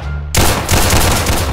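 Gunfire goes off in a Roblox hood game, loud and close, as a dense burst of rapid shots begins abruptly after a brief quiet moment. The shots continue without pause.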